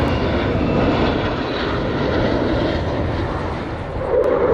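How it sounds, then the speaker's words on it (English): A KC-135 aerial refueling tanker makes a flyby at the 2023 Atlantic City air show, a loud, steady, broadband jet roar that holds for several seconds and swells slightly near the end. "This is a KC-135 flyby."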